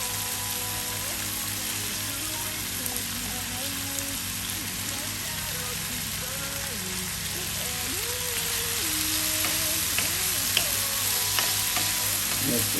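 Saltfish frying with softened vegetables for Jamaican callaloo, a steady crackling sizzle with occasional stirring scrapes in the pan, close and continuous, growing slightly louder, with background music playing underneath.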